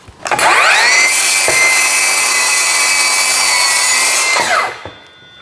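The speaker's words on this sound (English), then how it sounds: "you can see I cut through it, but not quite all the way" A power saw cuts through a vinyl floor plank: the motor spins up sharply, holds a loud, steady high-pitched whine with a grinding edge for about four seconds, then winds down, with no talk.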